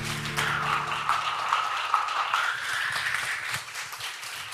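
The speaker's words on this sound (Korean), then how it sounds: "큰 박수 감사드립니다" Applause from a church congregation at a Seoul church service, a steady spread of clapping that holds for several seconds and then thins out, at moderate volume.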